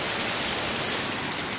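Heavy rain pours during a storm, a loud, steady broadband hiss with no gaps and no voices.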